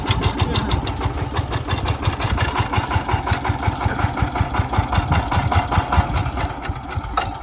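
A 4x4 tractor idles on a village test drive, its diesel engine chugging in a steady, fast, even rhythm close by, with no talking over it.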